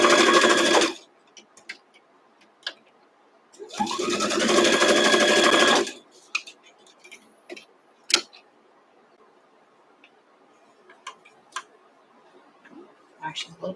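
A sewing machine stitching a Double X quilt block, two loud bursts of rapid whirring, a short one at the start and a longer one a few seconds later, separated and followed by quiet scattered ticks and clicks.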